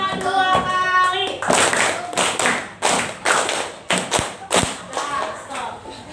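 A classroom of pupils claps a rhythm pattern twice over, a run of crisp group claps and slaps in distinct bursts, with a teacher's voice talking at the start and end.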